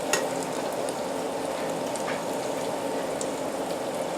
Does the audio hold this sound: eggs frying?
yes